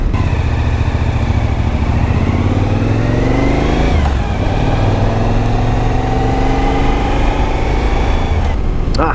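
A Suzuki V-Strom motorcycle ridden along a road toward a forest, its engine droning loudly and steadily with shifting pitch as it accelerates and eases off, alongside strong wind noise throughout.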